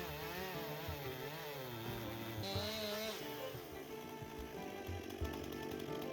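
A freshly sharpened chainsaw chews through wood up close, its engine note loud and wavering as it bogs and revs through the cut, with a dense rasp of chain over the whole stretch and no talking.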